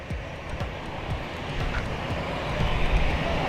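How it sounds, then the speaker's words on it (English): A small TAP Portugal airliner on the runway at Madeira airport gives a loud, continuous engine roar that swells slightly toward the end as it builds power for takeoff. "Come on, little top Portugal airplane. You might be able to take off."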